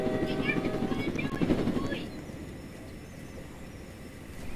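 A drone in the Roblox game Jailbreak whirs loudly and close for about two seconds, then settles into a fainter steady hum.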